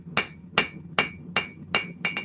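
Forging on an anvil: a hammer strikes six times in a brisk, even rhythm, each hit ringing sharply, the last one landing with a quick double bounce, close up and without speech.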